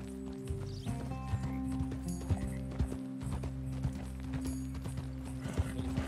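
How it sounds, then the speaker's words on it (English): Horse hooves clip-clop at a steady riding pace in the video game Red Dead Redemption 2, continuous and fairly close over a low game soundscape, with a brief whinny and faint voices in the background. "Ride fast, Uncle Arthur."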